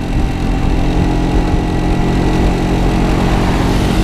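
A Vespa scooter engine runs steadily at a low, throaty idle, loud and close, with a constant rumbling drone and no speech throughout.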